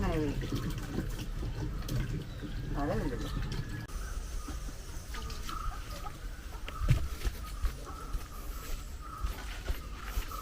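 Water splashes and runs into a steel vessel alongside talking, with a bird calling faintly in the background.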